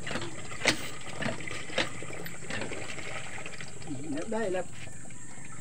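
Water pumped into a bucket runs in a steady, noisy broadband stream, with a few sharp clanks early on and people talking over it throughout.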